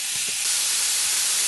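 Pork sautés in a pan until light brown, a loud, steady broadband hiss of sizzling fat that runs without a break, close and with no one talking.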